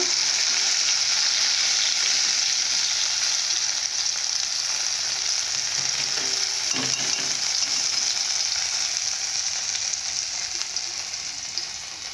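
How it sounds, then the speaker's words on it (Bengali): Okra fries in oil in a pan, a loud, continuous, close sizzle holding steady for about twelve seconds with a brief stirring scrape midway, easing slightly toward the end. "এইভাবে কিছুক্ষণের জন্য ভেজে নিবে ঢেঁড়সগুলোকে"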